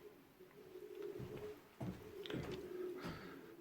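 Pigeon cock birds cooing softly in a loft pen, low repeated coos with a few wingbeats and shuffles, faint and close.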